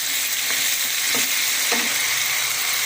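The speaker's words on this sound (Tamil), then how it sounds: "இஞ்சி பூண்டு விழுது போட்டிருக்கேன் இதே நான் வதக்கலாம்" Ginger garlic paste and green chillies sauté in a pan for crab kurma, giving a loud, steady sizzle close by, with three short stirring scrapes and no talking.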